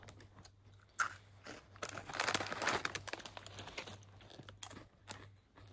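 A crisp Japanese snack made with mint flour is crunched and chewed up close, giving a dense, continuous crackle of bites that peaks in the middle and fades at the end.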